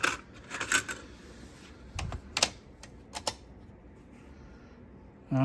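A type 2 cassette tape is loaded into a Braun C4 deck, giving a string of sharp plastic clicks and clacks close up, followed by a short stretch of quiet hiss.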